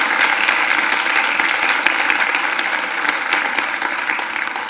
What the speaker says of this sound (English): So let's have a big round of applause for Inaya